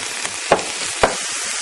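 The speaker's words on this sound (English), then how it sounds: "At this point I want to add my onions, which are finely diced, and just keep cooking and breaking it up" Finely diced onions fry in a pan with a steady, close sizzle, while a spoon stirs and breaks them up, giving two sharp scraping knocks against the pan.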